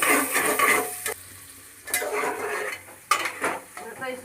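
Onions fried for chicken pulao are stirred in a hot metal pot, with loud scraping and clanking of a spoon against the pan in bursts over a soft sizzle, no talk.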